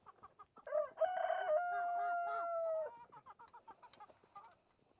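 Backyard chickens, including a Leghorn hen, cluck softly in short bursts around one long, clear rooster crow at fairly close range.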